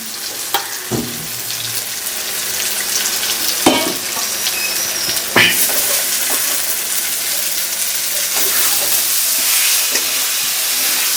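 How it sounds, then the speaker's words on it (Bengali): A pan of egg and new potato curry sautés with a loud, continuous sizzle and frying hiss, broken by several sharp scraping knocks of stirring, with no voices over it. "খুব সুন্দর এখানটা কষা কষা হচ্ছে"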